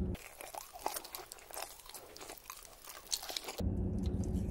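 Crunchy eating of McDonald's food, close and dense, with repeated sharp bites and chewing crackles, ending in a short burst of louder noise.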